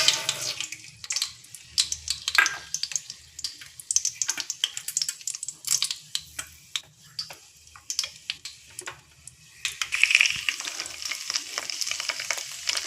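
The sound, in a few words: chana dal frying in hot oil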